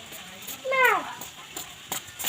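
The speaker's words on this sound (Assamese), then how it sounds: "মেকুৰী মেও মতা এটা ষ্টাইল আছে" A cat gives one short, rising-and-falling meow at close range against a faint background hiss, with no talking.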